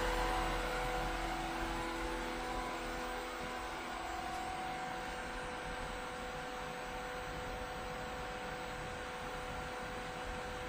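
A Black + Decker pump for heat pump loops on 1.5-inch pipes, running at higher RPM, gives a steady close hum and whir with constant tones, even and unbroken, with no talk.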